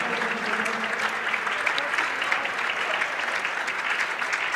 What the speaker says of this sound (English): the Timberwolves get a big round of applause from their fans